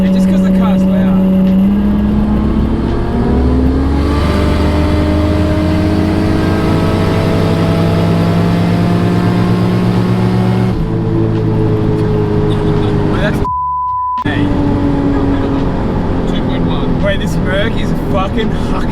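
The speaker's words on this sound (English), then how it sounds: "just because the car's loud" A tuned 704 hp Lexus GS300 on flex fuel roars loudly from inside the car, its engine climbing through gears with rising pitch, a brief shift dropout, then pulling hard again while people talk.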